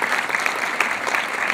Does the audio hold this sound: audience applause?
yes